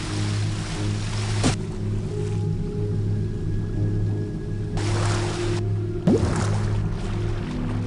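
Wading through water in Thief: The Dark Project, with a steady low sloshing and watery ambience throughout and a few louder splashy swishes of movement, and no talk.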